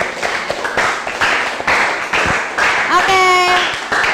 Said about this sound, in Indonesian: sekarang tepuk tangan untuk kita semuanya.